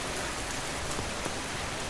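Steady, dense rainfall in the video game Schedule I, a continuous close hiss of drops on surfaces filling the whole stretch with no voices.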